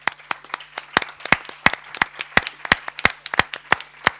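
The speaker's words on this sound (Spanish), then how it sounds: "Un gran aplauso para los ponentes." A congress audience claps for the speakers, with sharp, distinct handclaps coming in a brisk, fairly even rhythm, close and clear, without cheering.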